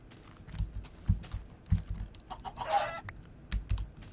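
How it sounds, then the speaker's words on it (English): A chicken in Minecraft gives a short clucking call midway, heard faintly over steady keyboard typing and mouse clicks close to the microphone. "Come here, chicken."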